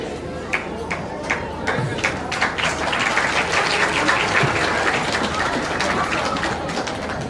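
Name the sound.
audience applause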